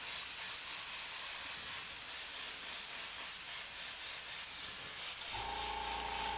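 An airbrush sprays chrome paint in a steady, continuous airy hiss, with a low hum and tone joining near the end.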